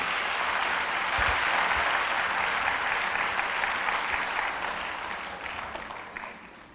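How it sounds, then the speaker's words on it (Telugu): A congregation at a live Telugu Christian prayer service claps together in a sustained, dense burst of applause that holds steady and then gradually fades toward the end. "అందరూ గట్టిగా చప్పట్లు కొట్టి ప్రభువుని స్తుతించండి"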